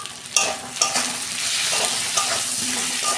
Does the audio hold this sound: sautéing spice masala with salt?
yes